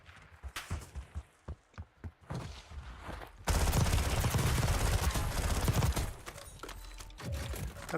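Call of Duty Warzone match: a handful of sharp, spaced single shots give way to a long, loud stretch of sustained gunfire and blasts, then it fades, with no voices.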